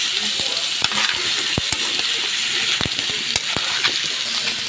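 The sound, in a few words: carrots and potatoes frying in butter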